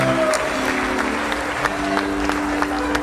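A crowd applauding steadily at a live concert, clapping blended into a dense wash under sustained musical tones, fairly loud throughout.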